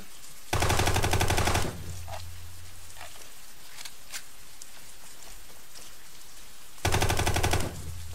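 Two loud bursts of rapid automatic gunfire in the Brick Rigs video game, each lasting about a second, separated by several seconds of quieter background noise.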